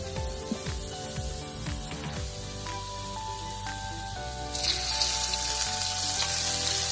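Garlic sizzles and fries in hot oil for a Thai braised pork leg dish, with a steady close crackle that swells louder toward the end.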